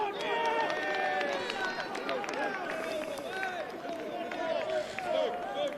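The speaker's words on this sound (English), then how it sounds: "Listen to this crowd." Spectators at a men's senior reserves rugby final between Te Teko and Paroa shout and roar as a fullback makes a break, with many excited voices overlapping at close range.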